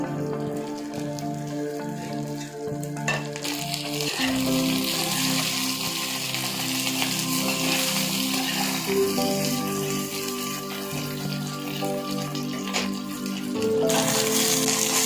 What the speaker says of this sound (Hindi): भिंडी हमारी फ्राई हो रही है।